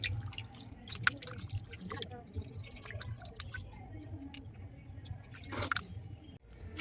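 Raw meat is washed by hand in water in a home kitchen, producing faint, close squishing, dripping and splashing that continues softly throughout.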